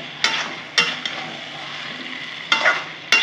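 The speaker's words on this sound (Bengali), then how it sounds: "ভালো করে নাড়িয়ে নেব" Vegetable curry with fried vadas stirred in a pan: a few sharp scraping strokes against the pan at irregular intervals over a soft, steady sizzle, close and alone with no talk.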